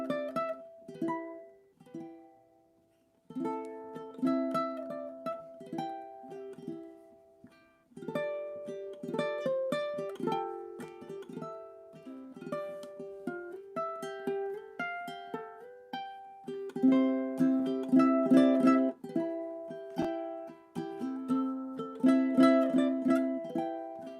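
A musician plays the major section of a song on ukulele, with plucked melodic notes and chords ringing steadily and alone, pausing briefly before growing fuller and louder toward the end.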